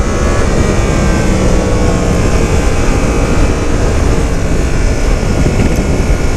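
2017 Yamaha FZ-10 motorcycle accelerating at low throttle, a loud continuous engine roar mixed with heavy wind rush, steady throughout with no pauses.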